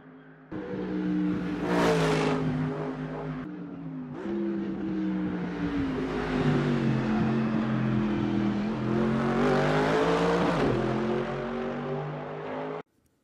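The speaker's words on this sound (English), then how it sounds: "the car is the GTM Mercer V8 from Race Sim Studio" A GTM Mercer V8 race car in the Assetto Corsa sim racing game revs loud and close, its engine note climbing and dropping through gear changes with no talk over it.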